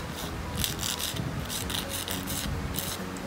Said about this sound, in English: I'm going to be filing the edges a bit,